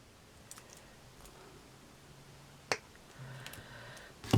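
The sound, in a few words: cutting beading wire down to size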